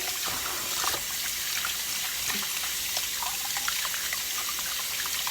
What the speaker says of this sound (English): So I really just give them a good scrub with that warm water.